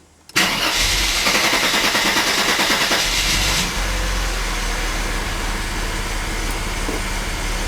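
A Mercedes 300E cranks and catches roughly, a loud burst of starter and engine noise that settles into a steady, uneven idle close by with no voices.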